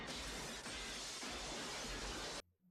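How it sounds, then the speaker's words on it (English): A glass floor shatters in a movie scene, a loud, dense crash of breaking glass that lasts about two seconds and then cuts off abruptly. "just break the glass."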